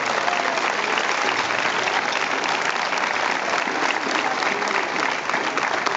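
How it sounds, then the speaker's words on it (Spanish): A cathedral audience in Tarragona bursts into loud, dense applause, a sustained roar of clapping that stays even for the whole stretch. "¡Un aplauso para él!"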